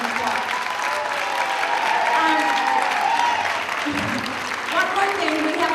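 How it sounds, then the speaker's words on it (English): An audience claps in a steady, sustained round of applause with some voices mixed into the crowd noise. "let's give them a huge round of applause"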